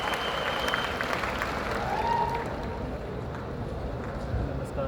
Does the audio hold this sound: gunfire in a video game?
no